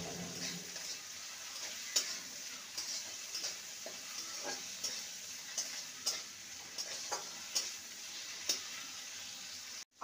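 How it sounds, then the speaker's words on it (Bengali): Ginger and tomato frying in a pan, a quiet steady sizzle with regular soft scrapes and taps of a spatula stirring through it, no voices. "আদা আর টমেটোকে ভালো মতন কষিয়ে নিয়েছি।"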